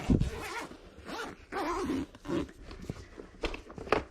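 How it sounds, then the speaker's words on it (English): Zip on the hood of a Nuna Pipa Lite LX car seat being opened, several short rasping pulls in bursts, close and fairly quiet. "I can see a zip here, so I'm guessing it's tucked in this part of the hood"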